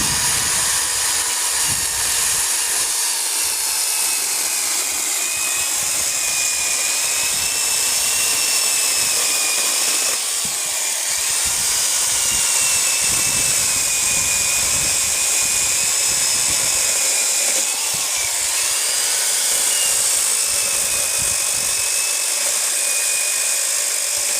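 A steady, loud electric chainsaw whine, a Grunhelm GES17-35b cutting wood, runs without a break, droning on with slight shifts in pitch as it cuts.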